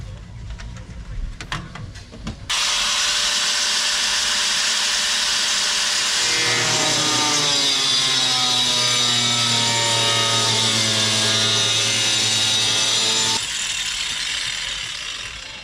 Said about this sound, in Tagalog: We need some grinder.